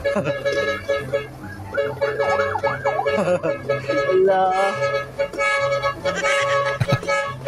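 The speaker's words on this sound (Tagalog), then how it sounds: "Lambot ng busina niya." A motorbike horn plays a wavering, siren-like musical tune, close and fairly loud, while people talk over it throughout.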